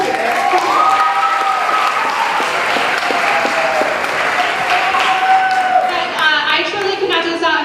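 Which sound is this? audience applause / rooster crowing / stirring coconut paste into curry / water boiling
audience applause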